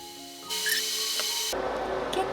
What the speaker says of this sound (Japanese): じゃあ実際に削っていきましょうかね。 今回はねチップ用意してるのでこれ削っていきます。